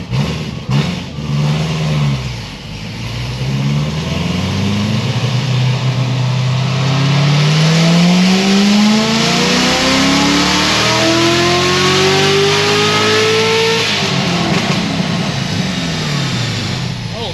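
Loud engine of a C7 Corvette Z06 on a dyno, revving up steadily from low to high pitch over many seconds during a cold pull, then dropping off, close and roaring.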